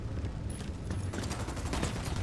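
Gunfire in the video game Ghost Recon Wildlands, a quick run of overlapping shots crackling at mid distance over steady game ambience.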